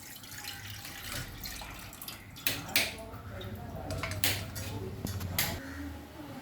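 Cow's milk is poured into a cooking pot on a lit gas stove: a steady liquid splash and trickle with a few sharp metallic clinks of utensils, close by over faint kitchen background.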